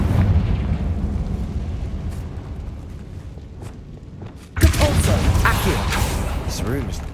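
Confringo blasting curse in Hogwarts Legacy on PC, a sudden loud burst midway through after a quieter rumbling stretch, followed by crackling debris and sustained blast noise.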